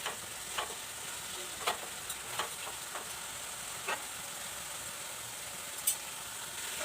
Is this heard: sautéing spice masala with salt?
yes